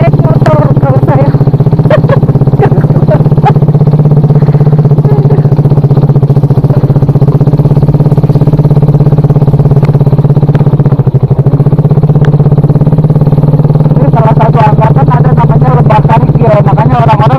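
Motorcycle climbing a steep mountain trail on Gunung Kencana, its steady mid-pitched engine drone running loud and continuous throughout, with people talking over it.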